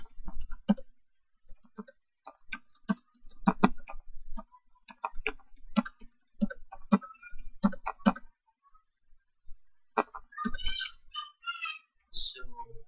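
Computer keyboard typing as post content is entered, quick irregular bursts of close, crisp key clicks with short pauses in between, in a quiet room.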